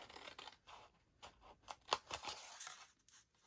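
Scissors cutting through milk carton paper in a series of quiet, close snips and crunchy cuts with short gaps between strokes.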